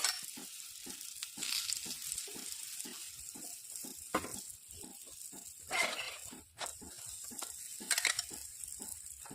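Puran poli fries in ghee on a hot iron griddle with a steady, soft sizzle and rhythmic pressing or scraping pulses. The sound stays fairly faint and no one speaks.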